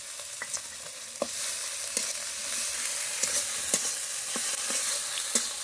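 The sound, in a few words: frying onion paste, green chili, ginger-garlic paste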